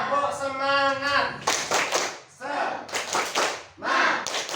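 A class performs a spirit clap, the Indonesian tepuk semangat, in sharp rhythmic bursts of hand claps between short chanted voice phrases, close and loud.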